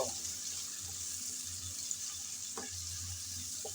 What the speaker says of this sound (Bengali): পেঁয়াজ কুচি দিয়ে হালকা ব্রাউন কালার করে ভেজে নেব।